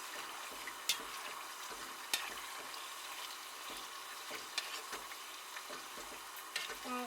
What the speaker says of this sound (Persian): مدام زیر رو میکنیم که روغن به همه قسمت های سیب زمینی بده.